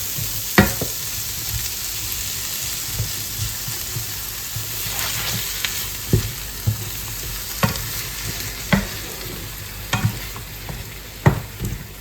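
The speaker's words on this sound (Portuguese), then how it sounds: "Misturo o curry sempre nessa parte aqui que tá refogando os legumes" Vegetables sauté with curry in a pan for a vegetarian dinner, a steady close sizzle broken by a dozen sharp scraping stirs and clinks of a utensil against the pan.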